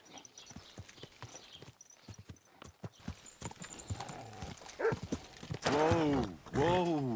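Horse hooves clip-clop in Kingdom Come Deliverance II, a steady run of close, crisp hoofbeats that grows busier, followed by a couple of louder animal calls at the end.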